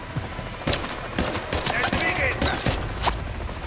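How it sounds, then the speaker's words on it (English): Rapid bursts of heavy automatic fire from a machine gun mounted on an armored vehicle in Call of Duty Modern Warfare 3, sharp cracks repeating close and loud amid battlefield clutter. "John got a mounted MG coming your way on an armored vehicle."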